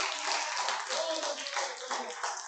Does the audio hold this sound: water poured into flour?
no